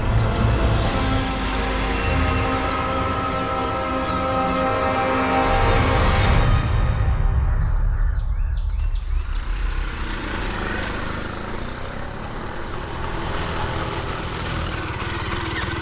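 A tractor engine runs steadily close by, a loud, continuous low rumble with a droning mechanical hum that keeps an even level throughout.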